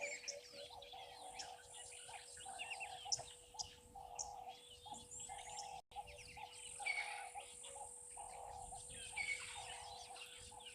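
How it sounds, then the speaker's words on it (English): Crested francolins and doves call together at a waterhole, a dense chorus of chirps, coos and trills over a steady insect drone, with a brief dropout partway through. "There's some crested franklins and doves calling simultaneously."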